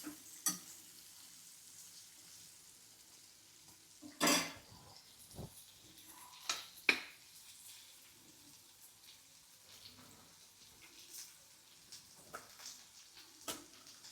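Okra fries in oil with a quiet, continuous sizzle while a spoon stirs now and then, giving a few sharp scrapes and taps against the pan.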